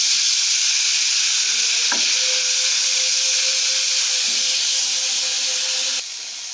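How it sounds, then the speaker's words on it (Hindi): Beef pieces frying in butter in a pan, with a loud steady sizzle and hiss close up, a few faint clinks of stirring, and the sizzle continuing alone. "दो से 3 मिनट के लिए फ्राई करने के बाद"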